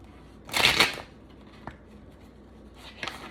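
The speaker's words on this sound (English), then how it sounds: "Let me get one more shuffle." A deck of tarot cards riffles in one brisk, crisp shuffle, followed by a soft tap and a faint second rustle near the end in an otherwise quiet room.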